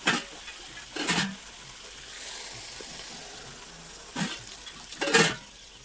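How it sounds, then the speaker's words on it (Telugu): Water poured into a sizzling sprouts chicken curry in a home kitchen, with sharp hissing bursts that flare up and die down between quieter bubbling. "తగినంత వాటర్ పోస్తుందాం."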